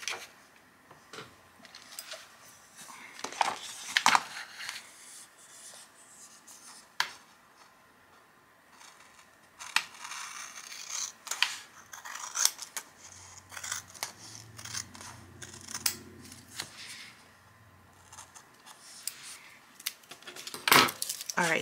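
Scissors snip through a paper budget sheet in several short crisp cuts spread unevenly across the stretch, close and moderately loud, with light handling rustles between the cuts and no talking.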